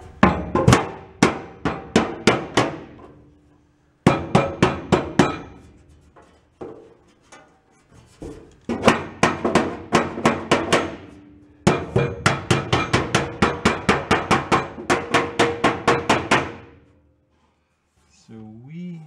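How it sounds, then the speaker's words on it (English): A hammer strikes sheet metal on a 1965 Ford Econoline pickup, making sharp ringing blows in fast bursts of many hits with short pauses between them, close and loud, with a brief voice near the end. "I want to start hitting it with a hammer."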